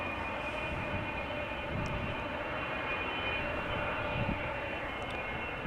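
A Boeing 777's engines roar as a steady, distant airport drone at Amsterdam Schiphol, a broad continuous rumble that stays even throughout with no talk.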